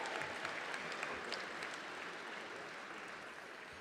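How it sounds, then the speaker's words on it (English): Sustained applause at a sports hall of fame induction ceremony, a dense, even roar of many hands clapping in a large room, with no voices over it. "How about one more round of applause for all of them"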